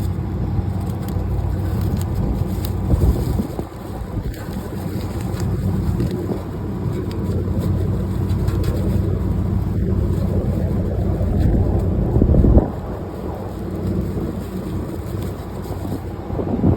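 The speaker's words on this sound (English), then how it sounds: "It's like 91 degrees and very windy." Steady wind roars and buffets a microphone outdoors on a hot day, a dense low rumble with gusty swells, loud and continuous with no voices.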